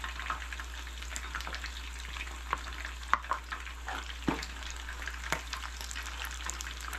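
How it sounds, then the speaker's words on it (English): Hot, freshly cooked sushi rice is mixed with sprinkled rice vinegar at an off-grid kitchen on Hawaii's Big Island, making quiet scraping and stirring scuffs with occasional sharper clicks over a low, constant background hum. "I'm going to sprinkle it on lightly and gently mix it in."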